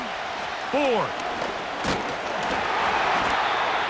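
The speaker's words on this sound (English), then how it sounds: "Crowd on their feet for 3rd and 4." A stadium crowd in Madden NFL 25 roars in a steady, broad wash of cheering before a third-and-four play. A commentator's voice talks over it, and a brief whoosh cuts through.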